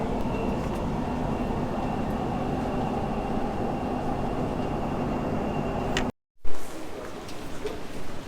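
Dubai Metro train running with a steady rumbling roar and a faint high whine, then a sudden brief dropout followed by a quieter interior hum as the train slows.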